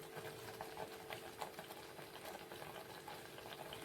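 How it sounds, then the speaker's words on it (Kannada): Sambar boiling in a pot for idli, a soft continuous bubbling with small irregular pops, faint and close. "ಇದು ಕುದಿ ಹಾಕತೈತ್ರಿ."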